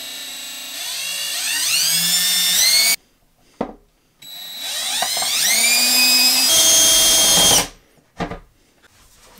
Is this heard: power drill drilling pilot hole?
yes